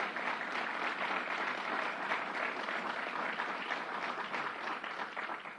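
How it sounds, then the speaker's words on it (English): Audience applause at a government event on gun violence in New York, with Governor Cuomo present: dense, steady clapping from a large crowd, sustained throughout and easing slightly toward the end. "let's give them another round of applause"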